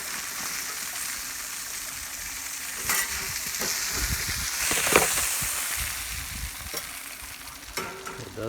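Squash and onions sizzle loudly on a hot grill, a constant close hiss broken by a few scraping, stirring clatters, with no one speaking.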